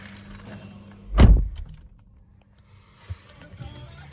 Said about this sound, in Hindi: गेट बंद करते हैं गाड़ी का।